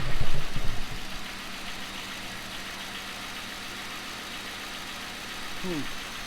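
A car engine idling just after being started with new parts fitted, opening with a louder burst and then settling into a steady low rumble with a faint rhythmic knock, heard close up.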